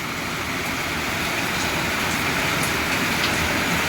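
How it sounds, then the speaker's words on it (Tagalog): Heavy rain pours steadily during a motorcycle carburetor repair, a dense, even broadband hiss that stays constant and close for the whole stretch with no talking. "lakas ng ulan."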